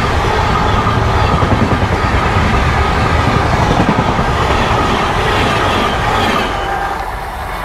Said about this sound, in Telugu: ఇది మెయిన్ లైన్ కనుక ఇక్కడ ట్రైన్లు స్లో అనేది కావన్నమాట, ఫుల్ ఫాస్ట్గా వెళ్ళిపోతాయి